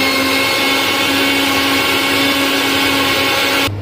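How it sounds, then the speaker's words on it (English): A kitchen blender grinds tomatoes into puree with a loud, steady high-pitched motor whine that runs unbroken for several seconds, then cuts off abruptly at the end. "We have to grind it."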